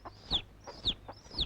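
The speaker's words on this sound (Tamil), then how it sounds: "குஞ்செல்லாம் அங்க இருக்கு, சத்தம் மட்டும் இங்க இருந்து வருது." Chicks chirping three times in a steady rhythm, each a high, thin peep with faint clucking underneath, moderately close and fairly quiet, with no talk.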